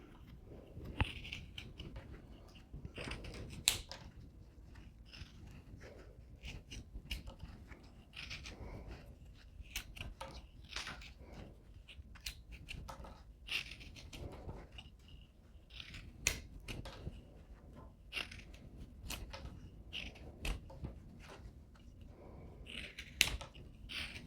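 Knife or saw cutting the corners off a wooden block being carved into a mushroom, heard as repeated close crisp snipping and scraping strokes in an irregular rhythm, with no voices.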